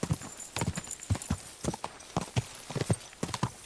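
Horse hooves clip-clop in the video game Kingdom Come: Deliverance II, a close, uneven run of hoofbeats with short gaps between strides, alone without talk.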